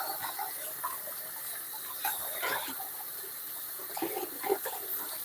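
Bowls being rinsed under running water from a tap while making no-bake ginger snap, marshmallow and chocolate cookies: a steady faucet hiss with scattered clinks and splashes, fairly close and moderate in level, with no talk.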